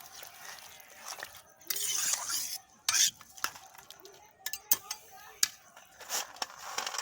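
Spoon scraping and clinking in a pan while diced pointed gourd, cooked until soft, is stirred with mustard paste; irregular soft scrapes and a few sharp metallic taps, fairly quiet and close.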